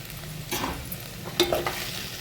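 Tomato and bitter gourd pieces fry in a pan, with a faint steady sizzle under a few soft stirring scrapes and clinks, close and quiet.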